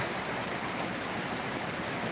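Morning rain falling steadily outdoors, a dense even hiss of drops that holds at a constant moderate level throughout with no voices.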